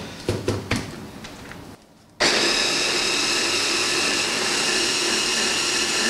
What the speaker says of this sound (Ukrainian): Ми його збиваємо в блендер.